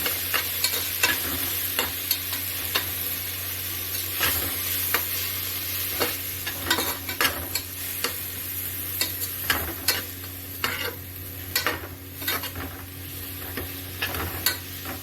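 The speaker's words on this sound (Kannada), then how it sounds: "ಇದೆಲ್ಲವನ್ನು ಹೀಗೆ ಫ್ರೈ ಮಾಡ್ಕೋಬೇಕು." Chicken donne biryani ingredients, including green herbs, sizzle in a hot pan as a spoon repeatedly scrapes and stirs them, a close and steady frying hiss with rhythmic clinks throughout and no talking.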